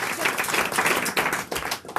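A few audience members clap in a radio studio, a scattered, close patter of hands lasting about two seconds with uneven rhythm.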